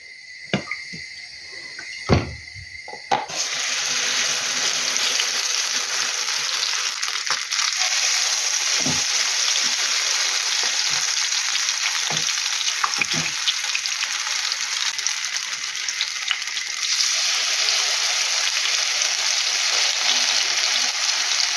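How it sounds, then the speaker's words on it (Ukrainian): After a few clinks and knocks, grated potato pancakes sizzle steadily in hot oil in a frying pan, a loud continuous crackle with occasional small taps, no talking. "Сковорідка вже нагрілася і буду от сюди ляти олії."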